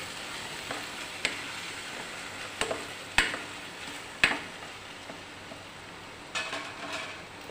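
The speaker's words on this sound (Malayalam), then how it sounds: "നമുക്കൊന്ന് ഇളക്കിയിട്ട് ആ കൂട്ടുകളൊക്കെ ഒന്ന് ചേർക്കാം" Chili, coriander, turmeric powder and salt being stirred in a sizzling pan, a constant frying hiss broken by several sharp scrapes and clinks of a spoon against the metal.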